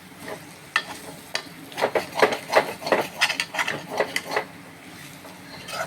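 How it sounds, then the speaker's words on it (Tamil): Chicken with curry leaves is stirred and tossed on a hot tawa, giving a busy run of spatula scrapes and clanks over a steady frying sizzle, loudest in the middle. "கருவேப்பிலை போட்டுக்கிறேங்க, போட்டு நல்லா பெரட்டி எடுக்கிறேன்."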